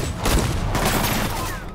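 A gunfire shootout in Marvel's Spider-Man between police and criminals, a burst of rapid overlapping shots and booms crackling loudly for under two seconds with a faint voice mixed in.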